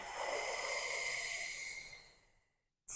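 A long, steady exhale through the mouth during an at-home Pilates breathing exercise, a soft close breathy rush that fades out over about two seconds.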